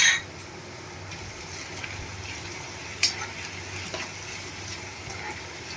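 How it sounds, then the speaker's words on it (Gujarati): Potatoes cook in oil in a pan for sabudana khichdi, a steady close sizzle with a brief stirring scrape midway and no talking. "આપણે આ બટેટાને એકદમ સોફ્ટ થાય ત્યાં સુધી આપણે આને તેલમાં પકાવી લેશું"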